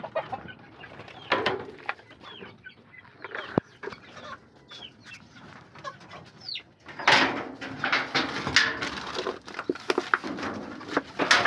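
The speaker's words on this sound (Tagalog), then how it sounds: "At gutom na ating mga alagang manok." Hungry chickens cluck and chatter in a busy flock in a coop, with scattered rustling and pecking sounds; the activity grows louder and denser toward the end.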